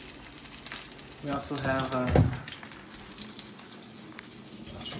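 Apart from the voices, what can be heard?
steak frying in a pan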